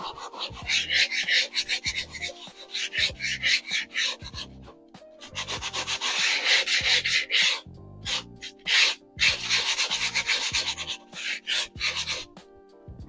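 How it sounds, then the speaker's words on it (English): Sandpaper scrapes a blackened model asphalt surface to rough it up. Close back-and-forth rasping strokes come in quick rhythmic bursts with short pauses between them. "So I just give it a scrape of sandpaper to rough it up a little bit and dull that color."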